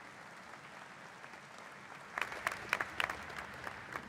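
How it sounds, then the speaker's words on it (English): Faint room noise gives way halfway through to a short burst of clapping from a crowd at an alumni awards ceremony, soft and somewhat distant. "Let's give all of our award winners a big round of applause."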